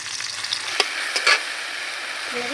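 Chopped and ground onions fry in a pan while being stirred, a steady close sizzle with a few sharp utensil scrapes and clicks against the pan.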